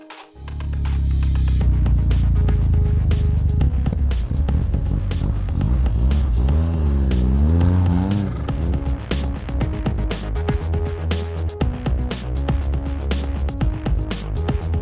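A snowmobile engine cranks and catches, then runs loud and close with a throbbing, rumbling idle that rises and falls through several revs and holds steady to the end.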